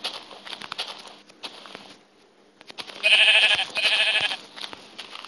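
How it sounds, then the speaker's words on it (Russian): Repeated sheep bleats in Minecraft, loud and near, over a soft background of game ambience and faint footsteps. "О, вот одна овца."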